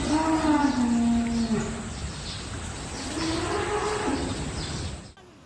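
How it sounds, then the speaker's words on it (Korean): Mother cow and calves trapped in floodwater at a livestock barn, giving long, drawn-out moos; two distinct bellowing calls rise and fall over a constant wash of rushing water. "물에 잠겨 옴짝달싹 못하는 어미소와 새끼 송아지들의 울음소리만 울려 퍼집니다."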